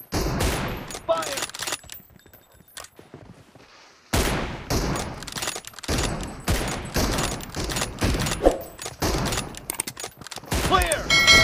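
Gunfire in a BGMI team deathmatch mobile game, with loud, close bursts of shots coming in clusters, one brief quiet gap, then repeated volleys and game sounds to the end.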